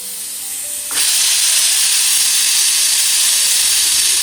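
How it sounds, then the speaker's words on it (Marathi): A pressure cooker lets go a sudden loud burst of steam, a harsh sustained hiss that jumps in after a quieter second and keeps blasting close by without pause. "कुकरगावांच्या शिट्ट्या द्यायचं काम चाललेलं आहे, एकामागे एक 4 ते 5"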